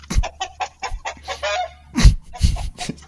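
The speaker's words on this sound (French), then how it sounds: "On est vraiment en train de regarder une baston de poules là" Chickens fighting cluck and squawk in short bursts, with a few louder flapping scuffles breaking through the excited calls.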